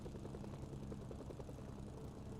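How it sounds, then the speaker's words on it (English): A helicopter's rotor thrums steadily as it lifts off in the video game Mercenaries 2, a faint, continuous chopping drone with no talk over it. "if he gets into the helicopter and it starts to take off"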